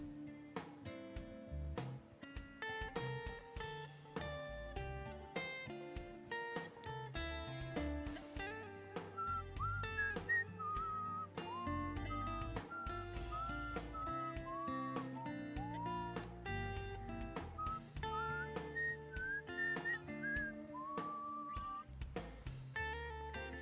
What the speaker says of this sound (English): I end up whistling random stuff to the tunes